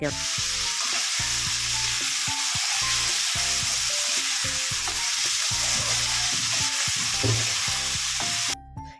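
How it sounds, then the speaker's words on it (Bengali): Ginger, garlic and green chili paste frying in a pan after onion and capsicum have been pushed aside, a continuous close sizzle with rhythmic scraping stirs running through nearly the whole stretch. "সেটাকে এক সাইডে ভালো করে ভেজে নিচ্ছি"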